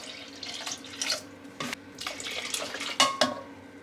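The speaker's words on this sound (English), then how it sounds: "Now I'm going to add 2 cans of water using the same tomato can." Water runs from a tap into an empty tomato can in short bursts, splashing and gurgling with a few metallic knocks in between.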